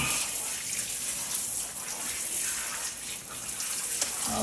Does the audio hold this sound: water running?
yes